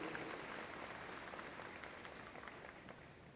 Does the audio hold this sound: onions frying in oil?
no